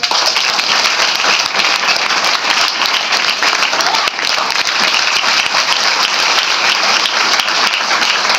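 A seated audience at a Savitribai Phule birth-anniversary and women's liberation day event breaks into sustained, even applause, many hands clapping in a dense continuous patter that carries on steadily without pause.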